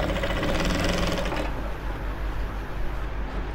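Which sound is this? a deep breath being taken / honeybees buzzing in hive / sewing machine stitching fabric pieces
sewing machine stitching fabric pieces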